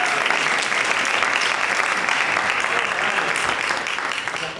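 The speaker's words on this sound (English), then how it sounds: "Round of applause." An audience claps enthusiastically in a dense, sustained wave of applause that fades slightly toward the end.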